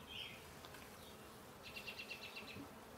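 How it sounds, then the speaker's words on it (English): Honeybees buzz faintly at a beehive where bees from another hive are landing and fighting, a soft hum with brief pulsing buzzes and a short rhythmic burst of wingbeats over low background noise. "I think some bees from the other hive keep landing here."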